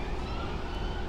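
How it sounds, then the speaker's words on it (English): An emergency vehicle siren heard beside the river Trent, a steady wailing tone carrying over low rumbling traffic, brief and fairly loud without speech. "Sirens again, look."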